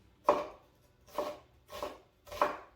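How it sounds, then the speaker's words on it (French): A knife finely chopping an onion on a board for a mini ratatouille: four evenly spaced, close, crisp strokes with short gaps between, no voices. "Et après, il n'y a plus que hacher, hacher, hacher, hacher."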